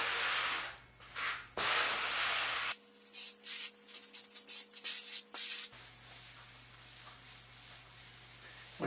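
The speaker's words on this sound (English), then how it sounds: "take the grout and work it very good down into the cracks in between the tiles" Grout is scraped and rubbed into the joints of a ceramic floor tile with a float, giving harsh gritty strokes in bursts, then quicker short scrapes, then a softer steady rub, all close and with no talk.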